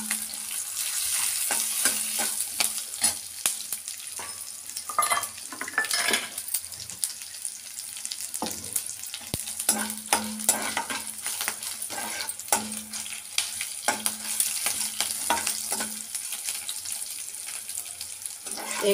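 Urad dal, cumin seeds and coriander seeds frying in a pan for curry leaf chutney, a steady bright crackling sizzle with scattered pops and faint scraping stirs, heard alone.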